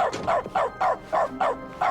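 In dog mode in The Stanley Parable video game, a dog barks six times in a steady, even rhythm, clear and close, with no one talking over it.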